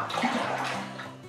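Liquid swirling and sloshing as red wine yeast is stirred into redcurrant wine in a homebrew bucket, a brief close wet churning with no talk.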